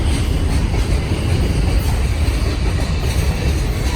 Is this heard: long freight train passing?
yes